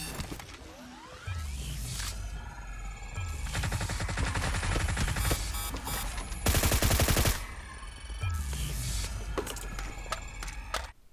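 Bursts of automatic gunfire in the PUBG Mobile battle-royale game crackle loudly and repeatedly over steady game ambience, with dense rapid volleys and sharp single shots running almost continuously.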